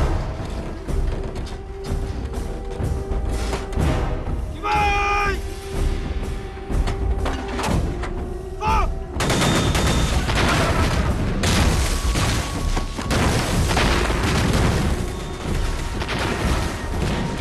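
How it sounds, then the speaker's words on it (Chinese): Battle gunfire in a war film: dense, overlapping shots and booming thuds that grow thicker and louder partway through, with music-like tones and occasional voices mixed in. "不对呀，这枪声怎么越来越密呀？"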